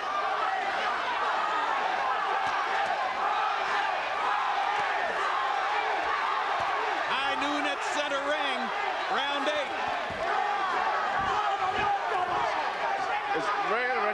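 A boxing crowd roars in a dense, continuous wall of noise as Rafael Marquez rocks Tim Austin and knocks him through the ropes in round eight, with excited voices rising and falling throughout.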